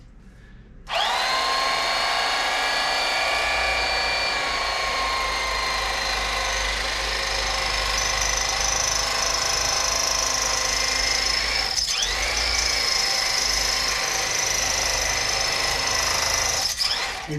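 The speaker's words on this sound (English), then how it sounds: "I'm going to attempt to cut it with a couple slices off it with an electric knife." Electric knife sawing through frozen beef, a loud continuous buzzing whine that starts after a second and runs steadily for the rest, briefly dipping twice near the end, no voices.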